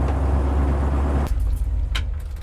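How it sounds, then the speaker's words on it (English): Classic Ford Bronco cruising at about 40 mph while drifting across the road, with steady loud engine and road rumble that drops slightly midway, plus a few brief rattles and clicks near the end. "We're going about maybe 40 miles an hour, and it's definitely drifting all over the road."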